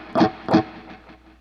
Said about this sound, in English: And when we got this mute, listen what that does.